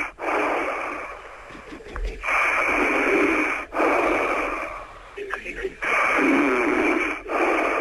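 A person snores beside a telephone, with long loud breathy snores repeating in a slow rhythm, heard through a phone line with background hiss and noise.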